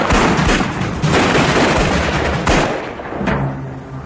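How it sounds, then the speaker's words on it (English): An exchange of gunfire during a police confrontation with fleeing bank robbers in Australia: a loud, dense volley of sharp overlapping shots and booms, with heavier blasts near the start and middle before it thins toward the end. "There was an exchange of gunshots."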